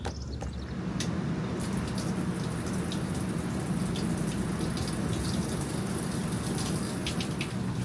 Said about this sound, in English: Turning on the water would help.